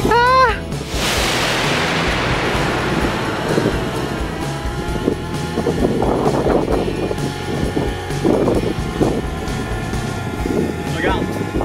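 A DJI Mavic Air drone spins up and lifts off close by, its rising whine settling into a steady buzzing hum while people chatter and laugh over it.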